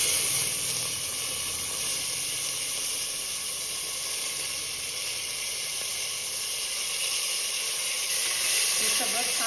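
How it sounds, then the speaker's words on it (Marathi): Green peas, cashews and chili sauté in a hot pan with asafoetida, giving a steady, even sizzling hiss that holds at the same level throughout, with no talking over it. "हे सगळं छान परतून घेऊया"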